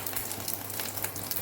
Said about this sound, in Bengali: এই মাছের ডিম না খুব ফুটতে থাকে